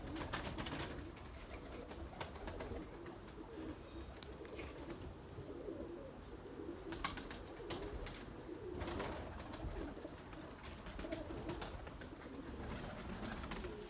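Pigeons and a turtle dove coo in a loft, low repeated throaty calls overlapping at a moderate distance with occasional wing flutters and rustling, fairly quiet and continuous without speech.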